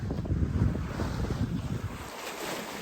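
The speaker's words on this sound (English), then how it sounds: "I noticed we had a little bit of wind, so sails are up" Wind at sea aboard a small sailboat crossing the Bay of Biscay, a steady rushing roar with buffeting against the microphone and washing water, loud and continuous, easing slightly toward the end, with no voices.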